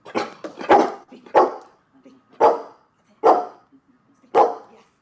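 Boise, a service dog from Canine Companions, barks on the speak command: six loud, close barks in an uneven rhythm with short pauses between, heard alone.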